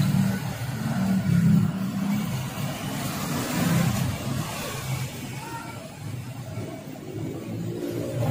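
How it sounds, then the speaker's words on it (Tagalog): A motorcycle-taxi tricycle engine rumbles steadily as the vehicle approaches, a mid-pitched motor drone holding fairly loud and constant amid street noise, with no speech. "Ito na, tricycle na."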